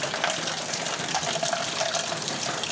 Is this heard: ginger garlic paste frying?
no